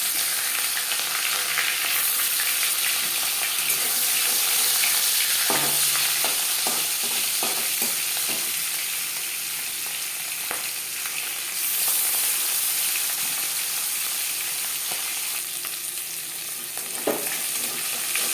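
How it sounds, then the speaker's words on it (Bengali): Marinated rohu fish frying in four spoons of hot mustard oil gives a loud, continuous sizzle and crackle, broken now and then by a spatula scraping and tapping the pan, with no voices. "4 চামচ সরষের তেল গরম করে নিয়েছি। এবার দিয়ে দেবো ম্যারিনেট করে রাখা মাছ।"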